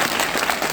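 Worshippers at a prayer gathering clap together, a short, dense burst of group applause heard close and fairly loud for under a second.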